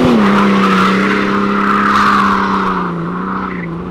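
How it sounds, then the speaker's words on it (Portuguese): Car tires skid and squeal on a wet track as a car pulls away from an event on a drizzly day, a loud sustained screech over engine roar that fades slightly toward the end. "o cara foi sair de boa, acabou derrapando um pouco"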